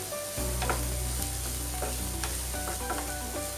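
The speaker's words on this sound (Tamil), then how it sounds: "எல்லாத்தையும் நல்லா வதக்கிக்கோங்க" Onions, green chillies and curry leaves sautéing in a pan for millet paniyaram batter, with a steady close sizzle and occasional scrapes and stirs of a spatula, no talking.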